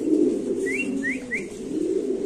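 A pair of modern pigeons coos steadily and close by, soft low throaty calls running throughout with a few brief higher whistle-like chirps in the middle.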